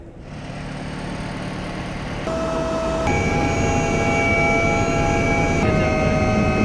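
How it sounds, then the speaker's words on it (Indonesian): Steady, loud engine roar of a police helicopter flying over the busy Jakarta-Cikampek toll road, continuous with shifting tonal whine, no talking. "inilah pantauan udara dari helikopter Polri di jalur Jakarta Cikampek"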